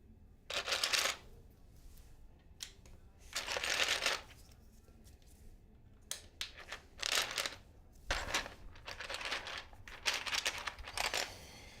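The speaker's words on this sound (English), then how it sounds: "Every time I put a keycap on, I have to hit it." Keycaps being pressed onto a mechanical keyboard give off scratchy, clattering bursts in irregular clusters, close and fairly loud against a quiet room.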